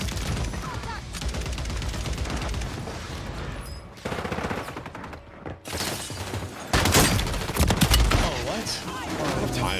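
Rapid pistol gunfire from a new handgun in a shooter video game, bursts of shots crackling through dense game sound effects and music, loud and near, with a player's voice occasionally talking over the action.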